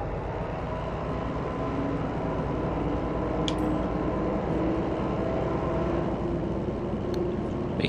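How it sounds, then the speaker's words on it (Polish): Locomotives rolling along the track in the railway game Derail Valley, a steady low rumble of wheels with faint squeals and clicks, constant and moderately quiet throughout. "I lokomotywki już się ładnie toczą."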